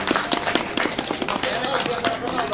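Members at the founding meeting of a cycling club clap for a newly named club patron, quick overlapping hand claps close by that carry on evenly, with voices mixed in.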